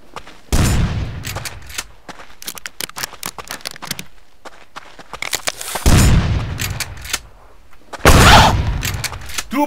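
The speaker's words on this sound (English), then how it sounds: "Grenade." A grenade going off in Rust, with three heavy booming blasts that each trail into a rumbling decay, mixed with rapid gunshot cracks in between.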